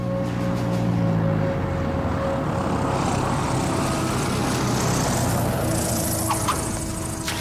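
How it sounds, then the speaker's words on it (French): A fixed-wing airplane comes in to land on runway 1 at Tucson, its engine a loud, continuous close drone with a droning hum throughout. "Prêt pour l'atterrissage, piste 1."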